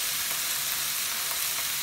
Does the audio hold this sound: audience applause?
no